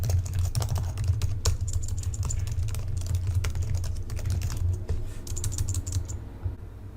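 Rapid, steady keystrokes on a computer keyboard as billing and credit card details are typed in, a close, continuous clatter of clicks that stops abruptly near the end.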